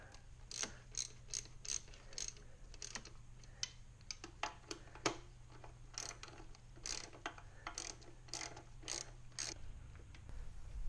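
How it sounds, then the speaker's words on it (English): Ratchet clicking in quick, repeated strokes while tightening a hose clamp on a duct on a Mini Cooper R53 supercharger, close and fairly quiet over a low steady hum, no voices. "Here I'm tightening the hose clamp that goes to that little piece of duct."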